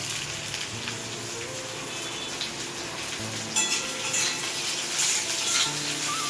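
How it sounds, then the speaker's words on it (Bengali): Onions stir-fried in a pan at home cooking, giving a steady close sizzle and crackle with occasional stirring scrapes throughout, no talk. "সব পেঁয়াজটা দিয়ে দাও, এবার একটু চালিয়ে দাও"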